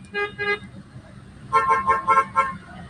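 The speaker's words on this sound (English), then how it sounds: "It seems to only pick up the frickin' horn honks and not the good shit." Car horns honk in traffic: two quick beeps at the start, then a cluster of several overlapping honks from other vehicles, loud and nearby over low road rumble.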